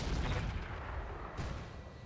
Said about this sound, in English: we're going to look at firing on probably this Warhammer 2C with our artillery at this time